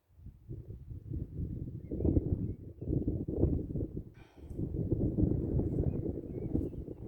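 Steady gusts of wind buffet the microphone, a low rumbling roar that rises and falls with a brief lull midway.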